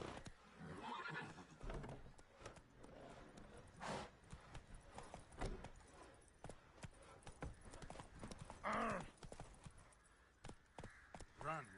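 Hoofbeats from Roach, the horse in the video game The Witcher 3, gallop along in a steady rhythm, broken by a sharp neigh partway through, with game music and voices around them.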